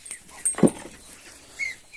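A tied-up dog gives a short, faint whimper with a brief yelp-like burst, close by in a quiet farmyard with light background noise.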